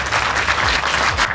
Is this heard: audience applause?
yes